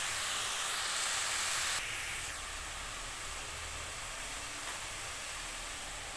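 Bottle gourd greens sizzle in a hot pan as they are stirred, a constant close hiss with slight shifts in texture and a small knock at the very end, with no speech.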